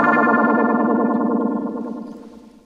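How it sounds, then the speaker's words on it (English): Electric guitar run through an envelope filter effect in Ableton Live, playing a sustained, distorted, wah-like tone with a sweeping filter that slowly fades out, heard alone. "I just wanted to give you a pure envelope filter tone"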